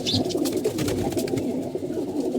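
Pigeons coo in a low, throaty, repeated murmur close at hand, a continuous soft burble through the short stretch with a few faint higher chirps and no talking.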